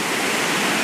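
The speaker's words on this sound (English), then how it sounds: "there's the waterfall" The waterfall on the Snake River at Idaho Falls gives off a steady, dense rushing roar that fills the moment evenly, with no voices over it.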